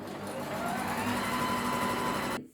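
A sewing machine stitches a straight seam along a summer dress hem, a steady continuous mechanical whir running at an even speed for over two seconds before stopping abruptly.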